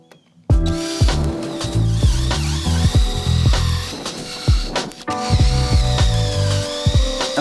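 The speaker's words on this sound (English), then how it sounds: "Let's start drilling with it in the flat position." A power drill bores holes into a plywood kicker ramp, its motor whining loudly in repeated bursts with the pitch rising and falling as the bit bites the wood and a brief pause midway.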